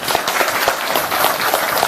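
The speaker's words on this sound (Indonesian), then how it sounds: "Tepuk tangan untuk beliau." Audience applause for a guest at a religious gathering, a dense, steady wash of many hands clapping that stays loud and even for the whole stretch, with no voice over it.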